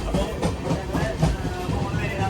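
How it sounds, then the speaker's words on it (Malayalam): The toy train to Matheran rumbles steadily along its rails, with a continuous close, noisy clatter and faint voices in the carriage. "ട്രെയിനിൽ കയറിയിരിക്കുകയാണ്."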